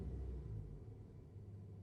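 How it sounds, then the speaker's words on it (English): Car engine starting as heard from inside the cabin, a low muffled rumble that swells briefly at the start and then settles into a steady, close idle. "The interior perspective of a car being started."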